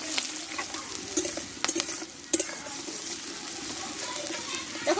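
Garlic cloves and a large chunk of onion frying in a pan in a village kitchen, a steady close sizzle broken by a few sharp stirring clatters.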